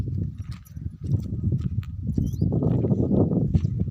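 A horse walks with a loaded pack while a herder's camp prepares to move: soft, irregular hoof clops over a dense rustling ground noise, moderately close and continuous.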